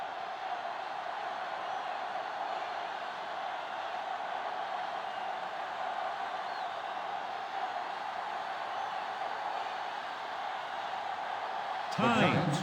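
A stadium crowd roars in Madden NFL 09 before a Cardinals versus Giants game, a steady, even wash of cheering throughout, with a commentator's voice over it and a brief louder swell at the end.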